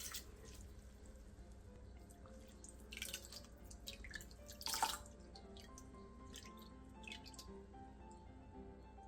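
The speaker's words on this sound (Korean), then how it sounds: "오징어채 250g을 물에 가볍게 헹궈낸 뒤 물기를 최대한 빼놔주세요." Dried squid strips lightly rinsed in water in a kitchen, giving soft drips and small splashes with a brief louder splash of water midway, with no talking.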